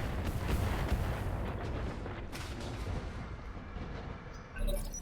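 Distant mortar fire from a Mortar Technical in the video game RogueTech rumbles as a dense, muffled barrage of low booms and thuds, continuous and moderately loud, with a final swell near the end.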